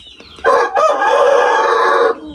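A single rooster crows loudly and close by, one long drawn-out call lasting nearly two seconds, with a brief lead-in before it.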